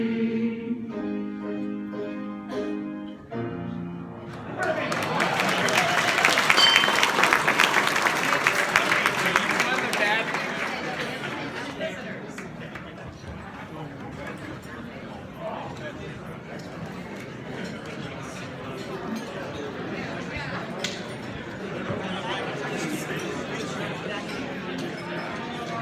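A large outdoor crowd breaks into applause after a sung patriotic anthem ends, a swelling wash of clapping and cheering that fades into murmuring chatter and scattered voices.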